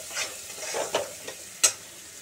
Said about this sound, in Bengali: আমি মশলাটা ভাজা ভাজা করে তার মধ্যে মাছগুলো দিয়ে দেবো